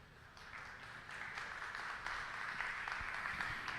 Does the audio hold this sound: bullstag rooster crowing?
no